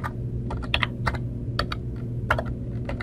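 Keys clack on a computer keyboard as a login name and password are entered, a close, irregular run of crisp taps over a steady low hum, with no voices.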